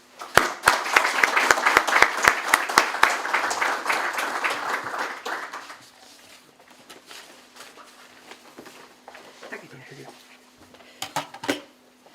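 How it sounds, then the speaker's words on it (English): At the opening of a Syriac studies conference, the audience applauds the first keynote speaker, a loud burst of clapping that fades after about six seconds, followed by quieter shuffling and a few knocks while people talk. "I would like, with your applause, of course, to invite our first keynote speaker, Professor Gründler, to open the conference"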